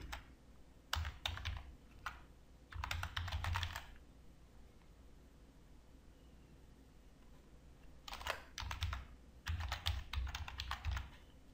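Bursts of typing on a computer keyboard, with clusters of rapid keystrokes separated by quiet pauses, close and fairly soft with no talking.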